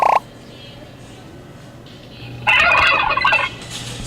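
A turkey gobbling loudly nearby in a rapid rattling burst, following a brief sharper call at the start, over a low steady background hum.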